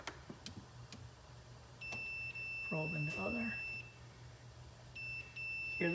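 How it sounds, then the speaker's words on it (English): A multimeter's continuity beep while testing the defrost heater of a Maytag refrigerator that is not cooling: a sustained electronic tone sounds twice, with someone talking between the tones. "Hear the beep?"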